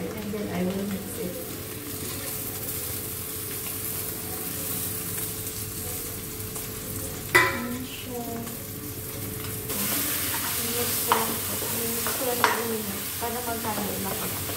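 Kimchi stirred into food cooking in a pan, a steady sizzle with a few sharp utensil knocks and scrapes, while a voice talks intermittently over it.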